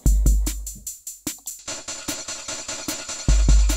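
A programmed drum beat with delay on the hi-hats and snares, the repeating echoes smearing between the kick and snare hits into a rolling, undulating rhythm, close and clear with no voices.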